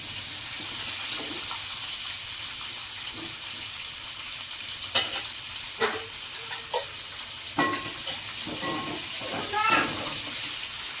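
Meal maker soya chunks fry in a pan with a steady sizzle, and clinks and scrapes of stirring break in over the second half.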